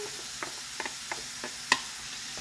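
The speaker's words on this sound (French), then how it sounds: "Donc je vais pouvoir ajouter les courgettes." Courgettes in a frying pan give a faint, steady sizzle, with a handful of light clicks and scrapes as a utensil stirs them, and no talking.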